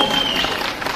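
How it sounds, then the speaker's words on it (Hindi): Audience applause at the Virasat cultural festival in Dharamshala, a brief dense burst of clapping from a crowd that holds steady for the whole second. "एक बार जोरदार तालियां अपने लिए।"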